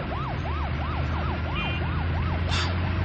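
A police siren wails in fast repeated up-and-down sweeps, roughly three cycles a second, over a steady road and engine rumble, with no talk.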